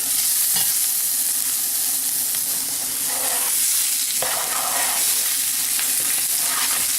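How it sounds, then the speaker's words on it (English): Meat sears in a very hot skillet, giving a loud, continuous, close sizzle with occasional stirring scrapes and clicks throughout. "We want to get that in there while our skillet is really super, super hot like it is right now. Want to get a little sear on that."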